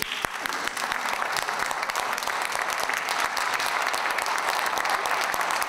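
Applause from a courtroom audience as the former health minister Jaime Mañalich walks in, a steady dense patter of many hands clapping throughout with no voices over it.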